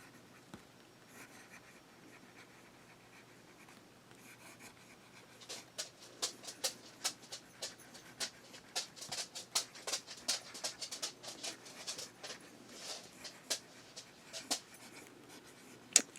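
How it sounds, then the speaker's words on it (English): A fountain pen with a medium Knox nib scratching across Rhodia dot paper, quiet at first, then a busy run of short close strokes and ticks in irregular rhythm against a hushed room. "we'll put the Knox nib to paper, medium nib."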